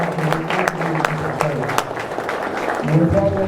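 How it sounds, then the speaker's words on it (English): An audience applauds mayoral candidates on stage at a Hawkins County candidate forum. The clapping is moderate and continuous beneath a voice talking over it. "Please join me in giving these folks on the stage a round of applause"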